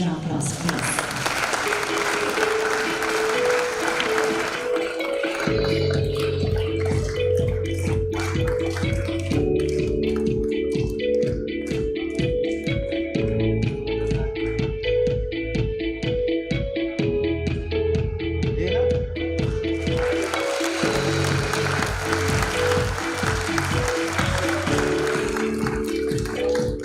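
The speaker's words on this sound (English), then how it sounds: "Let's have a huge round of applause, please." A crowd applauds at a stock exchange listing ceremony while upbeat ceremonial music plays. The clapping is strongest at the start and returns near the end, and the music carries steadily underneath throughout.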